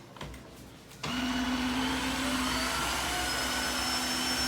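A Tineco iFLOOR 3 Breeze cordless wet dry floor cleaner switches on after a second and runs with a steady, loud motor whine and airy rush, holding a high tone throughout.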